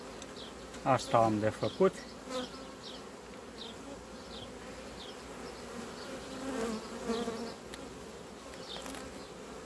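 Honeybees cluster thickly on a hive frame, giving a low, steady buzzing drone throughout. Someone speaks briefly near the start and again more faintly later.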